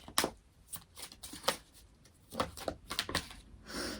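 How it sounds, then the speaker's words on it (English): Tarot cards are shuffled and drawn from the deck in a series of crisp, rapid riffles and flicks, close and fairly quiet, with no talking. "let's pull another card"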